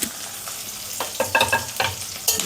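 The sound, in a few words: chopped onions and curry leaves frying in oil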